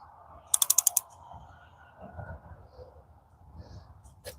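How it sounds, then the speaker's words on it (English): A 9/16 ratcheting box-end wrench clicking through a quick burst of about six sharp, close metallic ticks, followed by quieter handling noise. "This is a ratcheting box end or close end."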